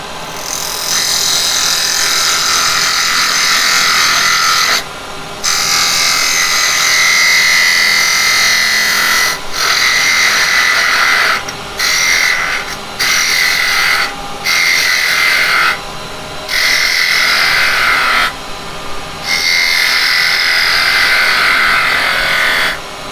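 Carbide tool cutting wood on a spinning lathe, a loud continuous scraping whir broken by several short pauses as the tool lifts off the workpiece, with no talk.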